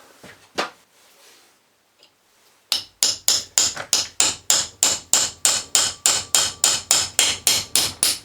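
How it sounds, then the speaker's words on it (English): A hammer drives a punch to knock a part out of a Lucas CA45 starter motor from a Ford Sabre 6-cylinder boat engine: after a couple of scattered taps, a rapid run of about twenty loud, close metallic strikes follows. "So we'll knock that out with a punch now."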